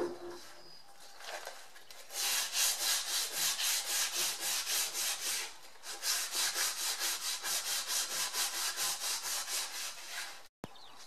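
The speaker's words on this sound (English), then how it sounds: "start sanding this down, getting it nice and smooth and ready for painting" Hand sanding along a wooden sculling oar being readied for paint, steady back-and-forth rasping strokes in a quick, even rhythm, close and moderately loud, with a brief pause before the strokes resume.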